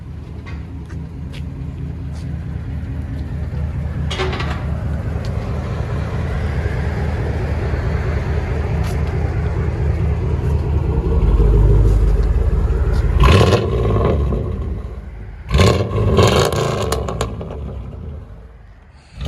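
Deep, rumbling idle of a 1996 Chevy Silverado 1500 with a 5.7L V8 and straight-pipe exhaust, loud and steady throughout, swelling into a heavier roar near the end with a couple of sharp blips.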